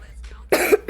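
A person coughs in two bursts, a longer rough cough followed by a short one, close to the mic after a quiet stretch, during a casual eFootball gaming session.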